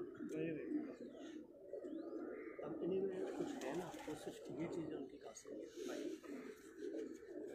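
Pigeons coo steadily in a loft or rooftop setting, a continuous low murmuring chorus with voices talking over it throughout.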